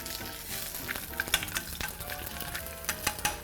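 Eggs frying in a pan of hot oil, a dense continuous crackling sizzle with frequent sharp pops, close and steady, no voices.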